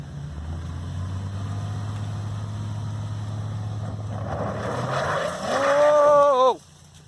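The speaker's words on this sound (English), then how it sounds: "As you can see, this car just spins." A Subaru engine drones steadily, then revs hard and climbs in pitch as tires squeal briefly while the car spins out with traction control disabled, before cutting off abruptly.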